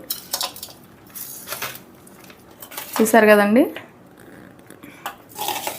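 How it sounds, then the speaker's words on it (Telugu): Cooked rice is stirred together with a tempering in a metal vessel to make lemon rice (pulihora), producing intermittent clinks and scrapes. A voice speaks briefly between them. "ఇప్పుడు ఈ మొత్తాన్ని బాగా కలుపుకుందాం."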